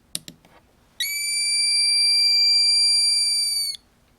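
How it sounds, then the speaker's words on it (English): A piezo buzzer driven by a 555 timer under digital potentiometer control gives one loud, steady high-pitched tone with a slight flutter, lasting about three seconds after a few short clicks. "Now this is just a piezo creating the sound"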